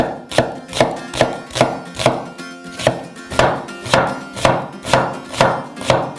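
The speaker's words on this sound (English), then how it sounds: "Also finely dice the red onion." A knife dices a red onion rhythmically on a cutting board, about a dozen crisp, evenly spaced strikes, close and loud.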